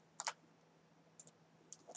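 A computer mouse clicks while modeling in Maya: a quick double click, then a few sparse single clicks in a quiet room, sharp but faint.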